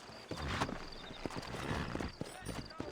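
Horse hooves clip-clop steadily on a town street in Red Dead Redemption, close and rhythmic, with a brief whinny and a voice talking over the hoofbeats.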